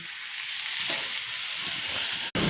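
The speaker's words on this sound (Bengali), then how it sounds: "মাছটা ভেজে নিয়ে এই পেঁয়াজটা ভাজা করছি" Fish and onions fry in a pan with a steady, close sizzle and crackle that runs throughout, broken by a brief dropout near the end.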